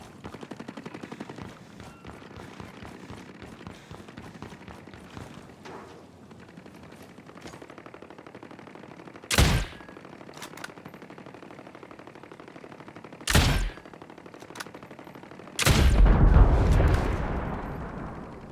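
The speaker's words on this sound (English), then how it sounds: "I can still hear gunfire on my end." Ghost Recon Breakpoint video game gunfire sounds as a long string of rapid, distant-sounding shots. Three louder, sharp bursts of automatic fire or blasts stand out above it, and the last one booms and trails off.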